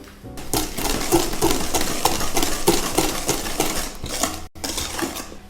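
Rapid, steady whisking of eggs into banana bread batter in a bowl, a close, busy clatter of metal against the bowl with a brief pause near the end.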